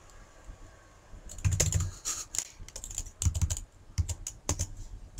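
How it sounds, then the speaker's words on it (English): Someone types a message on a computer keyboard during an online Dominion card game, in quiet irregular bursts of clicking keys with short pauses between, close and soft, no voices. "Let me type something to my opponent here."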